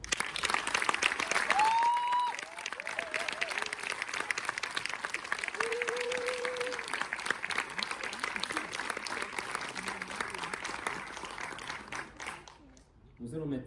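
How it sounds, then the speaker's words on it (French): A theatre audience applauds amateur opera singers at a lyric music event, a dense, steady wash of clapping that holds for most of the stretch, with brief sung or whistled tones rising above it, before fading near the end. "Je vous demande de les applaudir."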